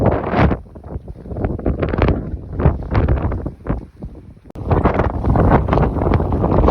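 Hard wind buffeting the microphone outdoors on a hike at Dolly Sods, a loud continuous low rumble and roar that surges and dips, with a brief lull midway before gusting strongly again.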